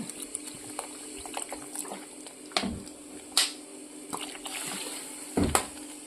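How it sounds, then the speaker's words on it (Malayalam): Water is poured into a pan of onion theeyal curry with tamarind water, making soft splashing and bubbling bursts with a few clearer gushes and clanks, close and fairly quiet, with no speech. "കുറച്ചുകൂടി വെള്ളം ചേർക്കാം"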